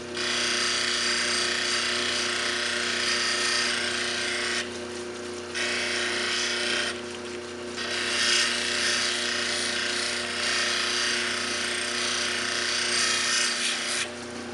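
A wonderstone cabochon is rocked back and forth against a spinning cabbing machine polishing wheel, giving a steady loud grinding whir with a motor hum beneath and brief dips where the stone lifts off.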